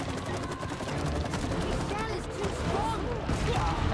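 Video game gunfire in It Takes Two, rapid bursts of shots crackling steadily for a few seconds, mixed with game effects and people talking excitedly over it.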